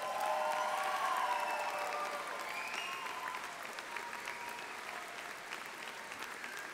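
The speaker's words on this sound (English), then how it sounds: "We now ask the graduates and audience to recognize them with a round of applause." A large graduation audience at a spring commencement applauds the faculty with sustained, steady clapping from a big crowd, dense and continuous, slowly easing in strength, with a faint voice under it.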